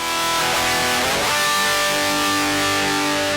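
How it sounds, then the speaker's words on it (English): A distorted electric guitar through a tube amp and load box with no cabinet, a harsh, fizzy sustained chord with a sweeping bend or swell in the middle, loud and unbroken. "all it's doing is taking the basic sound of your amp with no cabinet sound."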